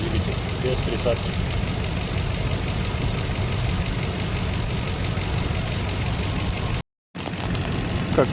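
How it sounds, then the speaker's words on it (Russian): A car engine with about 300,000 km on it runs without oil additive, a steady loud idle with a continuous mechanical drone and faint ticking, cut by a brief gap near the end. "Ставлю и слушаю, как работает двигатель без присадки."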